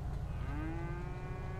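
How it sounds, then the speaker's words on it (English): Cows moo in GTA 5, one long drawn-out lowing call running through the clip over a steady low rumble of game ambience, with no one talking. "Are these your pet cows, Mr. Hickens?"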